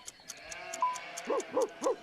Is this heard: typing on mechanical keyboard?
no